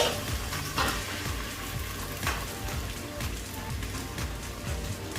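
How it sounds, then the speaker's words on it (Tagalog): Fried rice with green onion sizzles in a pan on a home stove, a steady crackling hiss with scattered pops and a few sharper stirring clatters, close and moderately loud. "At the same time, I'm making fried rice on the other end of the stove."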